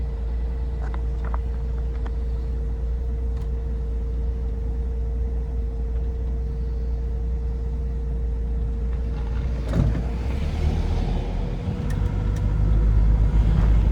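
A 1980 Ford F100 pickup, back on the road after 29 years, drives along with a loud steady engine rumble and road noise inside the cab. The rumble swells toward the end as it speeds up.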